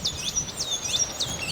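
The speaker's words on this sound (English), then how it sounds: "Cue the noisy birds." Birds chirp repeatedly in short high tweets over a steady low rumble of outdoor background noise by a basketball court next to a road in the Colombian Andes, fairly faint and distant.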